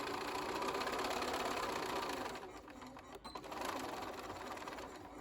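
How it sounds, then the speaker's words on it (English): Sewing machine stitching along the side of a fabric pocket for a zipper pouch, a steady close mechanical whirr with a brief pause in the middle before stitching resumes. "make sure the fabric's out of the way, and then sew along this last side of our pocket"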